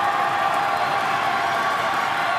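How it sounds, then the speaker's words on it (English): College basketball arena crowd at Appalachian State against Georgia State growing loud during a free throw, a dense, steady roar of cheering and clapping throughout. "crowd gets loud"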